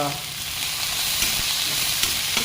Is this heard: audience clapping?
no